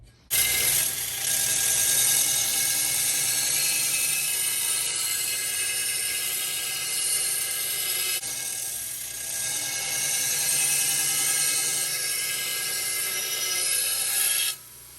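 A grinder puts an edge on a 5160 spring steel sword blade for a He-Man Power Sword build. It gives a loud, continuous abrasive whir with a slight dip midway, then stops abruptly near the end.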